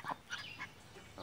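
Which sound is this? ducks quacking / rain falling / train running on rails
ducks quacking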